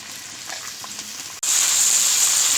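Chicken meat dropped into browned onions frying for chicken biryani, a quiet low sizzle that abruptly bursts into a loud, bright, sustained hiss as the meat hits the hot oil, close up, no talk.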